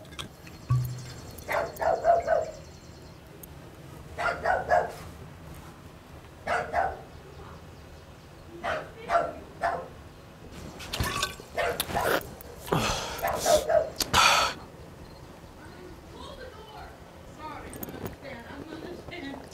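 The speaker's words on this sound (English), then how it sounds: "I noticed it's barking at me, and I kind of want to be friendly with the dog." A dog barks in repeated short bursts with pauses between, fairly close, alongside some whimpers and yips, while people talk intermittently.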